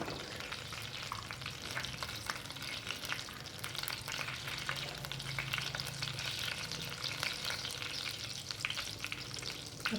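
Split coriander seeds sizzle in hot oil in a pan, a soft, steady crackling hiss heard quietly and continuously with no voices.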